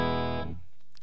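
A Fernandez 70s Strat copy in the third pickup position through a Ceriatone JTM 45 amp sounds a single sustained chord that rings out and decays within half a second, leaving faint amp noise.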